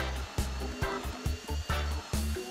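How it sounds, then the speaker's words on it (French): Hole saw with a centering pilot cutting a 22 mm lock hole through an invisible X40-type door, a close loud grinding whir broken into short repeated bursts as the drill starts and stops. "nous utilisons un foret trépant muni d'une tige de centrage spéciale qui s'insère précisément dans la serrure pour réaliser un trou de 22 mm."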